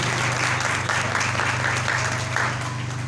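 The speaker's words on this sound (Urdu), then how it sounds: "آئے سب اپنی زوردار تالیاں خداوند کے جلال کے لیے بجا دیں۔" A church congregation applauds loudly and steadily, a dense, continuous wash of clapping from many hands filling the space without pause.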